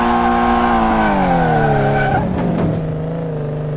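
A Mustang spins out in the Car Mechanic Simulator game, its engine droning loud and steady before the tires break into a sharp skidding squeal as the car slides around.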